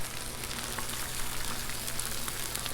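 Egg and vegetables frying on a Blackstone flat-top griddle, a steady dense sizzle with faint crackles throughout and no voices.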